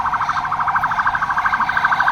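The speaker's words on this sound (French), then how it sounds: "laisse passer l'ambulance" An ambulance siren wails in a rapid, pulsing warble, loud and close, and holds steady for about two seconds.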